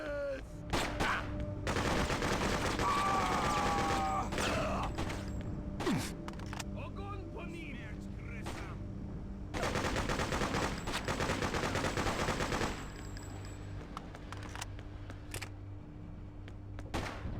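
Handgun fire in the PC game Freedom Fighters, repeated sharp shots in bursts and scattered single cracks over a dense battle din, loud and close, with a voice speaking at times.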